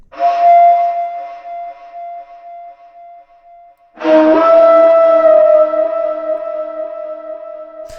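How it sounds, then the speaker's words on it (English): Two breathy, overblown flute-like notes, each with a rough windy attack, hold a sustained pitch; the second enters louder after a short fade. "Just the kind of like overblown pan flute, ethnic wind type sound"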